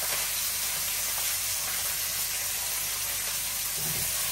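Vegetables hit hot oil with cumin and sizzle in a dense, continuous hiss close by, steady throughout with no talking.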